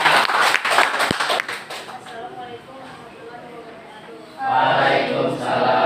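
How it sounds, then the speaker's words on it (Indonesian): In a classroom teaching-practice session, students clap for a presentation group. The clapping is brisk and close for about two seconds, then fades under speaking voices, and the chatter swells again toward the end. "Tepuk tangan buat kelompok 2."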